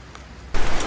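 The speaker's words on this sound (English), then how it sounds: "because of this driving rain, it's not just a little drizzle. It's been dumping rain now." Heavy driving rain pours down in Whittier, Alaska, a faint patter at first that suddenly surges into a loud, dense roar of downpour for the second half.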